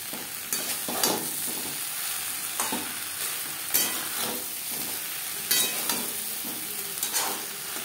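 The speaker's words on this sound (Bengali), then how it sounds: "কাঁচকলার সাথে ভাজা মশলা বেশ ভালো করে মিক্স করে দেবো।" Green banana being stirred with roasted spices (coriander, cumin, bay leaf, dried red chilli, black pepper) in a frying pan, with steady sizzling under repeated scraping strokes of a spoon, close and moderately loud, no talk.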